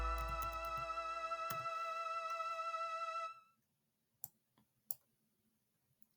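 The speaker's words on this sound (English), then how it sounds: "I'm going to double click it." A computer mouse gives a few sharp, faint clicks in near silence, following a sustained electronic tone that cuts off.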